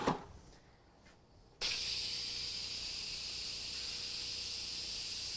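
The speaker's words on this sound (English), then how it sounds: "Just simply pressing down on the pressure valve. The steam is diverted out to the sides" Steam hissing from a pressure cooker valve as it is pressed down, a sudden loud broadband rush that starts sharply and holds steady, following a quieter stretch of kitchen noise.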